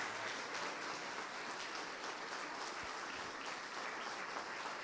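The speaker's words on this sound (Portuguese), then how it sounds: "Vamos aplaudir mais ao nome do Senhor" Congregation in a church applauding in praise, a steady, faint, hissing wash of many hands clapping with no clear break.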